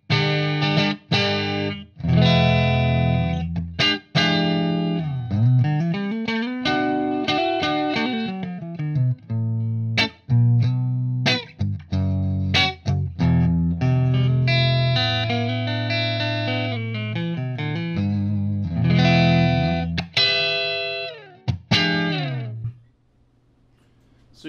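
Electric guitar played through a clean amp with a Supa-Boost prototype pedal engaged, giving a loud, sustained run of boosted chords and single notes with a tight, narrow low-end push, ending abruptly near the close.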